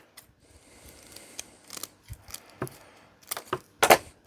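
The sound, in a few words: scissors cutting plugs off fine cables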